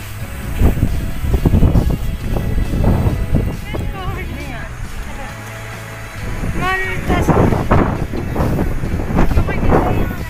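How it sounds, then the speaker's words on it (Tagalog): Strong cold mountain wind buffets the microphone in low, continuous rumbling gusts, while people talk over it throughout. "ang lakas ng hangin, sobrang lamig"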